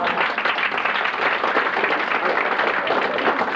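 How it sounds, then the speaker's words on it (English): A convention crowd applauds a guest at a sci-fi fan event, dense and loud continuous clapping from a large audience filling the whole stretch, close and even throughout. "Shall we give him a round of applause?"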